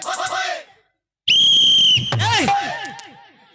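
A shrill whistle is blown at a Maithili-language Bihar stage show: a steady, piercing tone held for under a second, followed by warbling, sliding whistles and crowd noise, loud and near.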